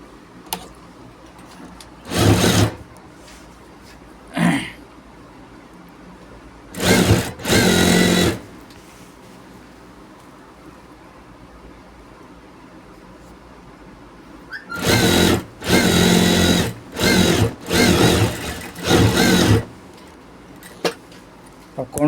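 An electric sewing machine stitches a seam on a gents' shirt during a fitting alteration, running in repeated loud bursts of a few seconds each, with quiet pauses between them and a close cluster of runs toward the end.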